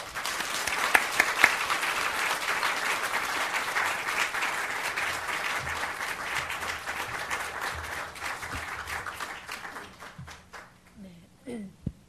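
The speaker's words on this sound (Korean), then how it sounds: "우리 박수로 환영하겠습니다." An audience at a Sunday afternoon church women's mission dedication service claps to welcome a guest speaker, sustained crowd applause that fades out toward the end, followed by a few faint voices.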